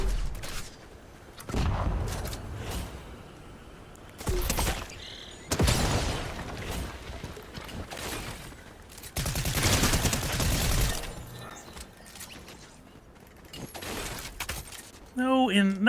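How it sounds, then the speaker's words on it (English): Grenade launcher fire in a video game, a string of loud sharp blasts and booms arriving in bursts, with quieter stretches between and talk heard in the gaps. "That's a grenade launcher."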